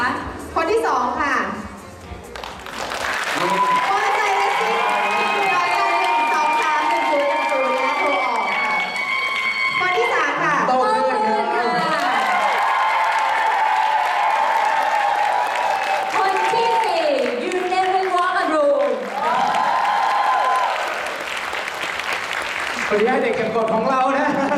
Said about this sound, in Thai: ขอเสียงปรบมือค่ะ